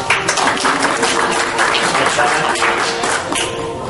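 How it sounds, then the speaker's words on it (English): Audience at an art show awards ceremony clapping loudly, a dense, continuous patter of many hands filling the room at close range without pause. "I'll tell her that you guys clap very loudly for her"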